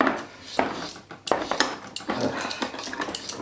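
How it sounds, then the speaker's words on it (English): A manual can opener works around a can of tomatoes in a kitchen, giving close, uneven metallic scraping, clicking and grinding with sharp clanks, moderately loud throughout. "It's the world's worst can opener."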